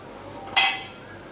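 A metal kadhai is set down on the stove for cooking, making one short, bright clank that fades quickly into a quiet room.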